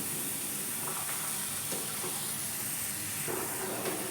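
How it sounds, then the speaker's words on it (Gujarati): Milk poured into a hot basundi mixture, a steady loud sizzle and hiss with faint stirring bumps throughout. "તો આ રીતે હું આ મિશ્રણની અંદર દૂધ એડ કરી દઈશ"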